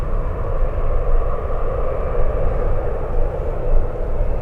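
A passenger jet at San Francisco airport rumbles steadily at a distance, a broad continuous roar with no voices over it.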